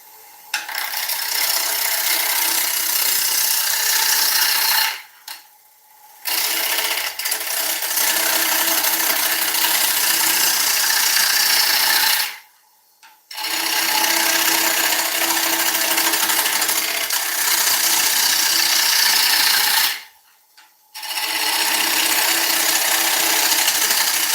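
Gouge push cuts on a small wooden bowl spinning on a lathe at 600 RPM, a loud steady rasping hiss in long passes of about five seconds, broken by three brief pauses.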